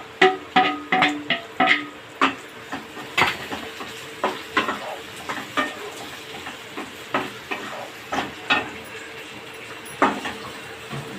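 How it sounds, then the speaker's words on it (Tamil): Tomatoes and onions sautéing in a pan for Tamil-style prawn thokku, with a steady series of close, sharp stirring scrapes and clacks of a spoon against the pan over a light sizzle, no talking. "தக்காளி நல்லா வதங்கட்டும்."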